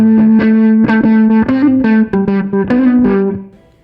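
An electric guitar played through an effects pedal with its resonance turned all the way down, giving a distorted, processed tone on a short melodic phrase of sustained notes that rings out and fades at the end.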